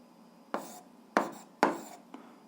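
A pen writes a fraction's denominator on paper during an eighth-grade algebra exercise: four short scratchy strokes, three firm and one lighter, close and clear against a quiet background.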